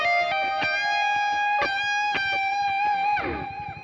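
An electric guitar tuned to drop C plays the opening part of a song. Clear sustained notes and picked chords ring out alone and close, with a slide at the end.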